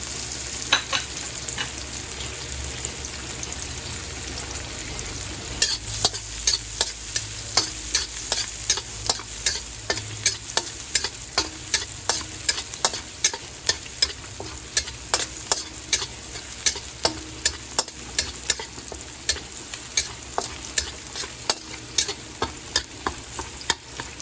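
Garlic sautés in oil with a constant close sizzle, while a spatula scrapes and taps the pan in a fairly regular rhythm of sharp clicks for most of the stretch.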